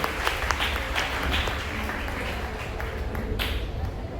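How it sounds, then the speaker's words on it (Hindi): Children at a school Guru Purnima and felicitation ceremony clap together in steady, sustained applause that fills the hall for several seconds, with a faint murmur of voices underneath. "जोरदार तालियां बच्चों होनी चाहिए"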